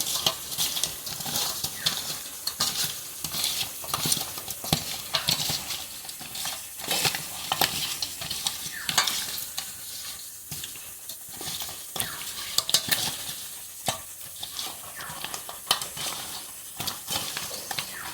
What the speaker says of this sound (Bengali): এখানে মাছটা মেখে নিচ্ছি।